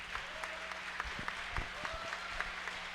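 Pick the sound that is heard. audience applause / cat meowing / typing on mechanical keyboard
audience applause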